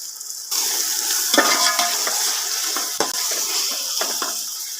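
Tomato and whole black peppercorns fry in hot oil for peas pulao, a steady close sizzle that jumps louder after a soft start, with scattered stirring scrapes and clinks.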